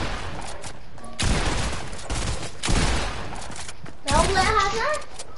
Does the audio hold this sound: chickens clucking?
no